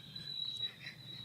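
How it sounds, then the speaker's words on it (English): Crickets chirp in a continuous high trill at a press conference before a Springboks rugby match against Italy, a faint, steady insect buzz with no talk. "It's the cricket."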